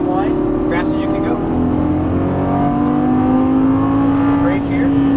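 A Lamborghini Gallardo LP550-2 on a racetrack gives a loud, close, steady engine drone whose pitch climbs slowly under throttle, with a brief dip near the end.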